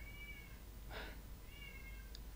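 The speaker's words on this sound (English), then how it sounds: "What's wrong with the cat?" A cat gives a few faint meows against a low background hum, with a short rustle between the calls.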